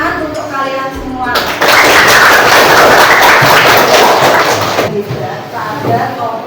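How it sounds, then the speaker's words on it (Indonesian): A class of schoolchildren applauding in a classroom, a dense sustained burst of many hands clapping for about three seconds, loud and close, with a teacher's voice speaking before and after. "tepuk tangan untuk kalian semua."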